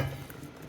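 A low, steady bubbling and hiss of water boiling in a canner for tomato sauce, close and fairly quiet, with faint clinks.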